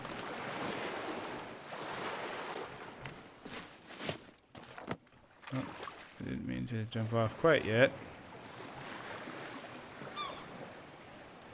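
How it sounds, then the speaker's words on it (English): Soft ocean surf and wind wash steadily in the video game Len's Island, low and ambient, while a person talks over it and a few brief splashing and clattering game sounds pop up. "The water sounds are soothing."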